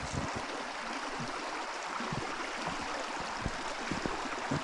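Stream water trickling past near a fallen tree, a steady soft wash of flowing water with faint gurgles, continuous and fairly quiet with no voices.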